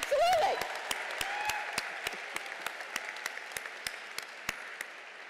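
Law school commencement crowd at Hofstra University, a brief swell of applause fading into a few scattered, distinct claps spaced out over several seconds, with a voice heard at the start.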